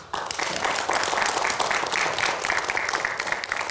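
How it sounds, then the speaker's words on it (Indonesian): Loud, steady audience applause at a televised talk event, a dense continuous patter of many hands clapping close by from start to finish. "Kita berikan aplaus."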